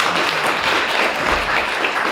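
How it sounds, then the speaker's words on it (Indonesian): Wedding guests at a Batak church blessing applaud together, a dense, steady patter of clapping that holds at an even loudness for the whole moment. "Ini boleh tepuk tangan ini"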